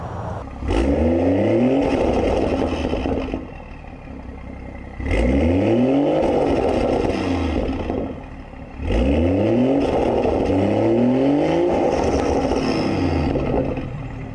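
A BMW F30 with a downpipe and the dual resonators deleted revs in three long pulls, each climbing in a loud raspy drone and then dropping off, recorded close with no talking.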